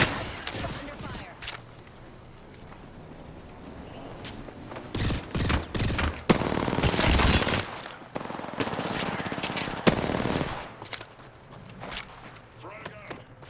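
Rapid machine-gun bursts and scattered gunshots in a team shooter video game, coming in loud clusters over a low background with a player's voice occasionally speaking.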